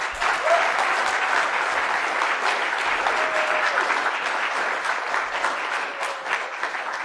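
Sustained applause from an audience, a dense steady clatter of many hands clapping for several seconds, with a voice faintly audible through it.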